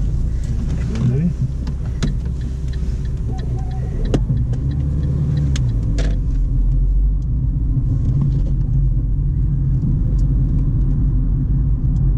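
A car pulls away in third gear during a driving lesson, its engine rumbling loud and steady through the cabin, with scattered clicks and knocks and people talking over it.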